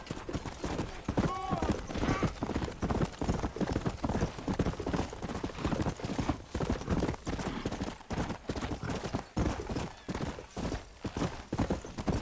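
Horse hooves galloping under a rider in Red Dead: a steady, rhythmic clip-clop of hoofbeats throughout, fairly close, with a brief whinny early on and some voices speaking over the ride.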